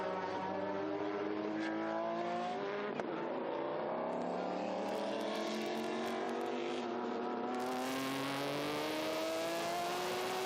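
Historic race cars at the Estoril circuit howl past one after another, engines rising and falling in pitch as they accelerate, heard at a distance with a steady roar that builds toward the end.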